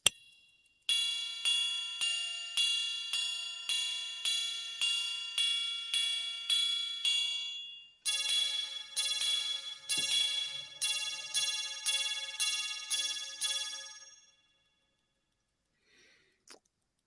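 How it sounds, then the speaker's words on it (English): Patek Philippe Calatrava chiming watch striking a long run of clear, bright metallic chimes in even succession, a short pause, then a second faster series fading out, heard close and alone in a quiet room. "And here is the sound of the chime."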